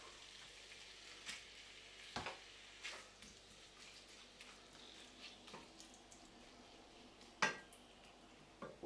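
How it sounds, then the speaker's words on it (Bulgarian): Minced meat frying in a frying pan with a little oil on a stovetop, a faint soft sizzle broken by scattered clinks and scrapes of a utensil against the pan, with no talk. "Оставяме го да се пържи"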